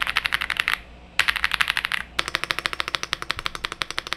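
Rapid clacky keystrokes on an Aula F75 mechanical keyboard, bursts of fast typing separated by short pauses, close and crisp with no talk.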